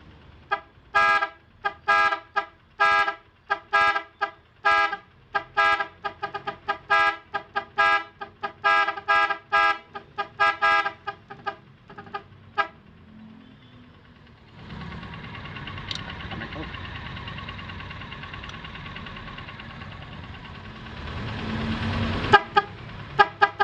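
An eight-tone car horn interrupter cycles through a quick repeating melody of tones, loud and close, then a stretch of engine rumble with a few short honks near the end.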